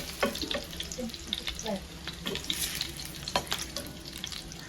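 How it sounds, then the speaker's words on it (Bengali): Eggs frying in oil in a pan, a crackling sizzle with soft spatula scrapes and occasional sharper pops over a few seconds, no voices. "এভাবে সব ডিম ভেজে নেব।"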